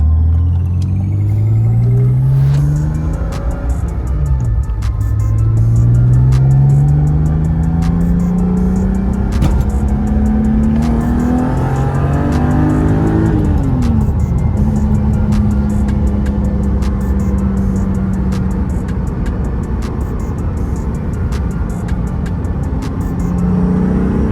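A 1997 BMW M3 inline-six with a UUC exhaust pulls hard through the gears, its engine note climbing in pitch, dropping at a couple of upshifts and rising again, loud and close inside the cabin with steady road rumble and no talking.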